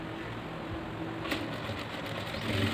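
A sewing machine hums steadily up close while stitching a fold on a chudidhar, a continuous even mechanical whir with no pauses.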